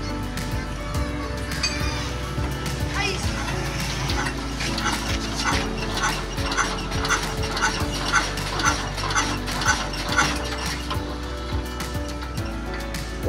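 A Diesel S1125 single-cylinder engine running steadily after repair of a knocking fault, a dense, loud mechanical chugging drone with a rapid rhythmic clatter, close up and continuous throughout without speech.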